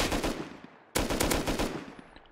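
Automatic gun spraying in Rust fires a fast, steady stream of shots, a short burst, a brief pause, then a longer loud volley with no talking.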